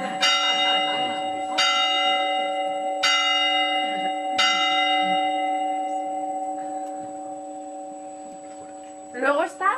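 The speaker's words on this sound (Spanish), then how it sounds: "Conocida también como la de la Ruidera, que es la segunda más antigua del campanar, de 1744." The Ruidera church bell, cast in 1744, in a bell tower in Castelfabib, Spain, struck four times at a steady pace, each loud clang ringing out over a sustained hum, with a brief burst of other sound at the end.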